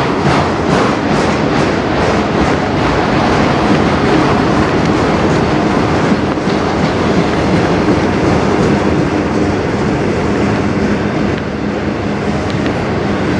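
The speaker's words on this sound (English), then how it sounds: "still got at least a half mile of train" Long freight train hauling auto racks rolls past close by, loud continuous rumble with clickety-clack of wheels over rail joints throughout.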